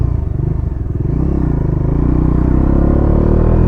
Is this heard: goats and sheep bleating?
no